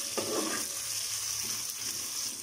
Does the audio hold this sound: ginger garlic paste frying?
yes